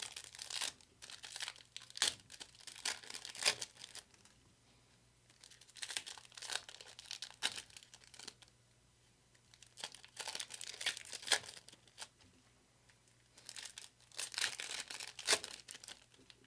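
Foil wrappers of NFL trading card packs crinkle and tear in repeated bursts while medium blaster boxes are ripped open, close and fairly quiet, with short pauses between handling.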